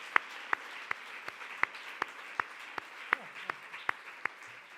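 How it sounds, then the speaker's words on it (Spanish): Applause at a feminist congress comes across as a faint, evenly spaced run of about a dozen sharp claps, each distinct, over a quiet room murmur. "Matilde, un aplauso para ti."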